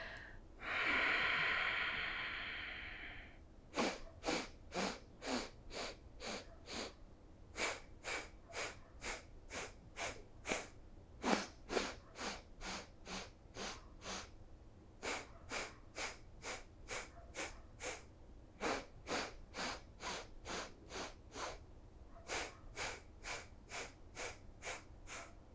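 Rhythmic yoga breathing: after one long exhale, sharp nasal breaths come in quick bursts of about seven, short inhales and exhales repeating steadily and close up, with no talking.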